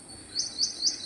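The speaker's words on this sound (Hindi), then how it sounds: "चिड़िया बोल रही थी छोटी सी चूं चूं करके" A small bird gives four quick high chirps in an even rhythm, fairly faint, against a quiet outdoor background with no talking.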